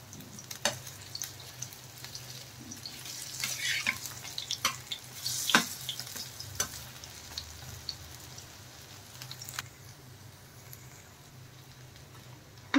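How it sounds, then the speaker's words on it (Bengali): Soft, continuous crackling and sizzling of masoor dal and pumpkin leaf fritters frying in oil, with scattered pops and an occasional clink of a utensil. "আর একদম মুচমুচে করে ভাজতে হবে।"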